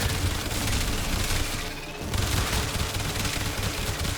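Coda Hema weapon in the Warframe game firing rapidly: a dense, continuous barrage of crackling shots and booms, loud and close, with a short dip in the middle before the fire resumes.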